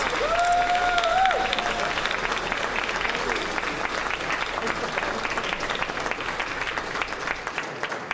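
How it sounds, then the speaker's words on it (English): A convention closing-ceremony audience applauds in a long, steady roar of clapping that fills the hall, while a voice speaks briefly over the start. "Ladies and gentlemen, let's get a round of applause."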